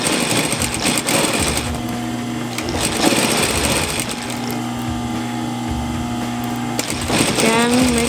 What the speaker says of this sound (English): Take your time, sewing around